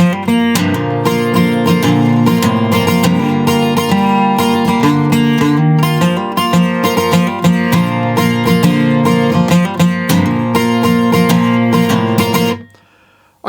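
Guitar plays the intro of a song up to speed, a dense, loud run of continuous picked notes and chords that stops abruptly near the end, leaving a brief fading ring.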